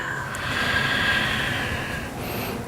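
Steady, audible breathing during a gentle yoga routine for women preparing for pregnancy, a long drawn breath with an airy hiss that holds for about two seconds and then eases off.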